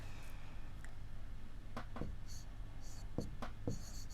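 Writing on a board during a maths lesson on quadrilaterals makes short, quiet scratching strokes in small bursts, with a soft low hum underneath.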